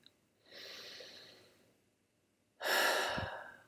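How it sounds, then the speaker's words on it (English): A slow, deep breath taken close to the microphone: a soft, drawn-out inhale, a brief pause, then a louder, rushing exhale. "Take another deep breath."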